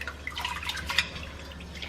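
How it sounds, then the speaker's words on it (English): Rice being washed with water, giving irregular close drips and small splashes at moderate level, with no talk. "I'm just washing the rice at the moment."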